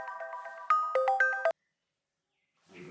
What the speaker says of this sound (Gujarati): અરે પણ આ કોનો ફોન આવ્યો તારા?